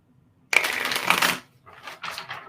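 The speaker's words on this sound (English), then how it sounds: "I'm just going to shuffle again for an outcome card." Tarot cards are shuffled close up in a dense, crisp riffling burst lasting nearly a second, followed by a couple of softer, shorter shuffles.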